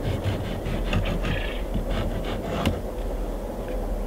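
A wooden board screeds freshly poured concrete along the top of foundation formwork for a chicken coop, making a steady, close, rough scraping and rubbing that runs the whole time with no talk.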